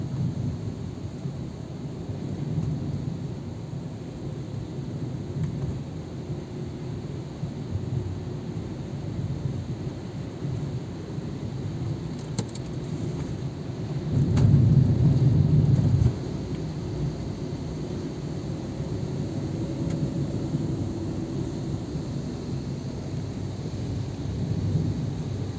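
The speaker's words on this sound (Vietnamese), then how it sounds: "Trời mưa lớn hơi tối thui nha các bạn ha." Heavy rain drumming steadily on a moving car in dark daytime traffic, with a low continuous rumble throughout and a brief louder swell partway through.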